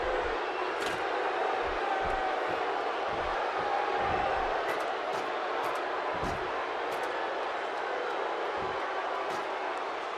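A large arena crowd in the WWE 2K16 wrestling video game cheers in a steady, loud roar that never lets up, with scattered shouts and thumps poking through the din.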